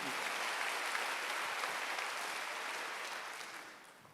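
A church congregation at a Wednesday service breaks into dense, steady clapping that fills the room, then fades away over about four seconds with no voices on top.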